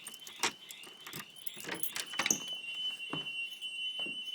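After the February 2011 Christchurch earthquake, an alarm sounds continuously as a high steady tone, alongside scattered clattering and knocking noises nearby.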